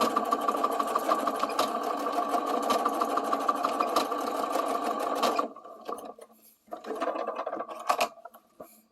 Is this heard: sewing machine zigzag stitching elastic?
yes